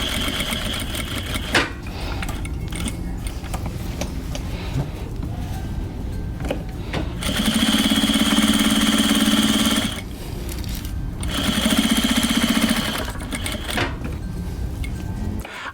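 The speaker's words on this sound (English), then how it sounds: "I'm going to take them to the machine and sew both pockets to both coat fronts" A sewing machine stitches pockets onto quilt coat fronts, running in steady mechanical bursts with louder, faster stretches of needle rattle between short pauses.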